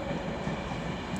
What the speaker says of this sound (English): Now coming in is the 1214 Avanti West Coast service to Birmingham New Street from London Euston